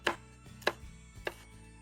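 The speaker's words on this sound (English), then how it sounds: "finely chop half a green pepper, half of a red pepper, finely chop as well." Knife chopping green and red bell peppers on a cutting board: three distinct, evenly spaced close thumps of the blade, with light knocks between them.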